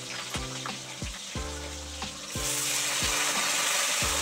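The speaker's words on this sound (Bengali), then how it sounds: "এবার সেগুলো তেলের মধ্যে দিয়ে দিচ্ছি" Bay leaf and spices sizzle in hot oil while a pan or utensil knocks in a steady repeating rhythm, about once every 0.6 seconds. The frying hiss swells louder and more continuous partway through, and no one speaks.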